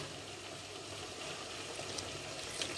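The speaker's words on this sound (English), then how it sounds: "cover everything with water, just water from the tap." Tap water pours into a pot of cuttlefish stew with potatoes, making a quiet, continuous splashing hiss with a few small gurgles near the end.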